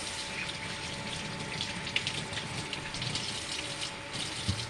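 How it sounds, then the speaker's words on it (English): Hands are washed under a running kitchen tap, a steady close rush of water with small splashes and shifts as the hands move through the stream. "Wash my hands."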